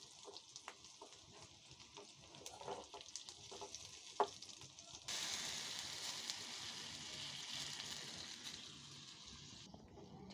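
A hot tempering (bagar) of spiced oil is poured into dal, bursting into a sudden loud sizzle that holds for several seconds before cutting off, after quieter clinks and stirring, close up, no talking.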